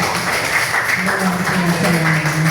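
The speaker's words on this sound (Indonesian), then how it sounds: "Tepuk tangan untuk kita semuanya." Classroom applause from a group of students, a dense continuous clapping wash, loud and close, with voices and a teacher's speech mixed in over it.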